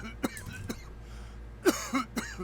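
A character in the video game Call of Cthulhu coughs repeatedly from gas, with several short harsh coughs and throat clearing spread unevenly across the moment, fairly quiet.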